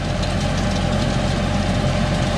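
Water-cooled tractor engine running steadily while a hazelnut harvester works the ground in a dusty orchard, a continuous loud low rumble with no pauses and no talk.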